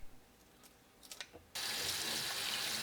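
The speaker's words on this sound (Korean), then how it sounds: "양미리를 흐르는 물에 3-4번 씻어주세요." Sand lance fish rinsed under a running kitchen tap: after a few faint clicks and small splashes, a steady, loud rush of water starts midway and continues to the end.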